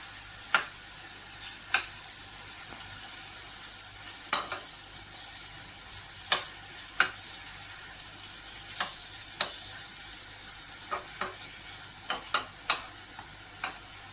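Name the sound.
banana pieces frying in honey and ghee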